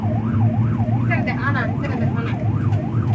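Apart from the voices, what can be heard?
ambulance siren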